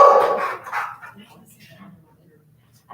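A dog gives a couple of quick, close barks at the start, then the room goes quiet, with people talking around it in a meeting space.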